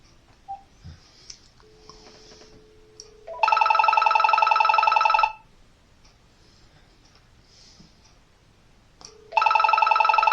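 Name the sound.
VTech cordless answering phone ringing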